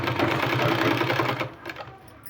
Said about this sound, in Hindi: उसी में हमको सिलाई लगाना है